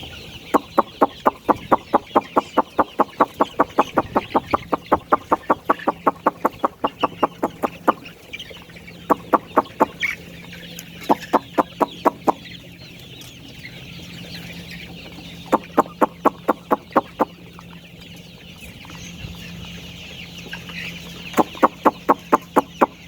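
Chickens with their chicks, kept as pet birds, cluck in rapid repeated bursts, with long runs of close, fairly loud calls broken by short pauses, over a steady background murmur.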